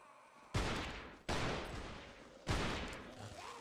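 Gunfire from a VR zombie shooter, Death Horizon on Oculus Go: three loud separate shots, each a sharp blast with a long decaying tail, spaced about a second apart, with no talking.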